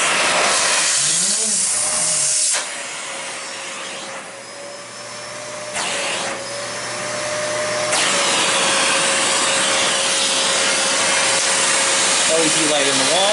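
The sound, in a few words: Kenmore 81214 canister vacuum cleaner running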